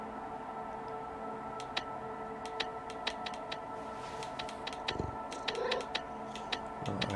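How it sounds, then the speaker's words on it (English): Purring from a cat in the video game Stray is heard as a steady low rumble under an ambient music bed, with soft ticks and a brief meow-like tone, and no talking. "I hear purring cat."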